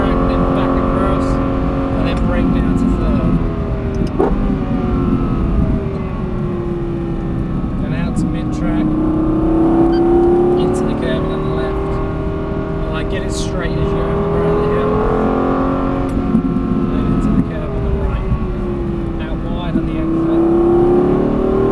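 A Lexus LFA drives fast around Silverstone circuit during a track day, its high-pitched engine note rising and falling steadily through the gears and corners, heard from inside the car while an instructor talks throughout.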